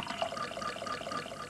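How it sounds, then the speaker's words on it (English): Sampled pouring water played back on a Fairlight CMI synthesiser from 1980, a steady bright splashing wash that runs close and moderately loud for the whole short stretch, with no voices. "We've got, first of all, pouring water."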